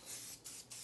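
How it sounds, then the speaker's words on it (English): Cooking spray hisses onto a 9x13 baking dish in three steady, close bursts separated by brief gaps. "now let's spray our 9x13 dish"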